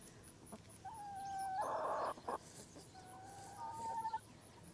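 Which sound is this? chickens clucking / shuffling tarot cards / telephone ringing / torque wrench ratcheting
chickens clucking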